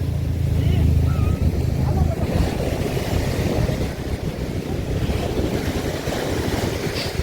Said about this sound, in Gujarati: હવે દરિયાના મોજા આપણા પગ માટે મારે જો અત્યારે આવે છે મોજું જો